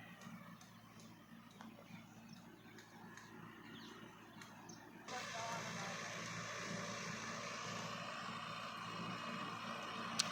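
Mitsubishi 4x4 tractor with a rear blower spraying a pomegranate orchard, a steady engine-and-fan drone heard faint at first, then jumping louder and hissier at about five seconds as the blower nears, under faint background talk.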